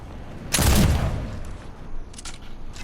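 A flintlock gun fires once in a video game, a single loud booming shot with a long fading tail, followed by faint game ambience and a few brief clicks.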